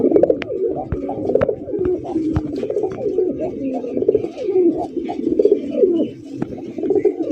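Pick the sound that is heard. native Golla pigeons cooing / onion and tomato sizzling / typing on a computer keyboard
native Golla pigeons cooing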